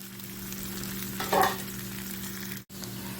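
Sausages frying in a pan for a sausage masala, a soft steady sizzle with a brief louder burst of spatter and stirring partway through, close and without voices.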